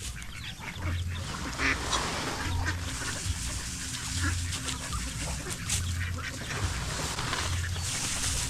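Ducks quack repeatedly in a noisy flock, close by, over steady outdoor background noise.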